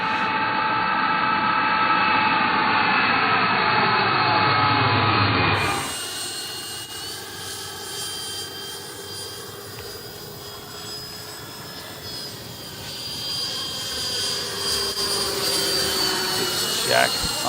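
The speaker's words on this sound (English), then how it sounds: "I'm just like seeing a jet fly." Radio-controlled model jet aircraft flying at an RC event: a loud whining turbine roar that shifts pitch as it passes, then a fainter distant whine that swells again, with people talking over it.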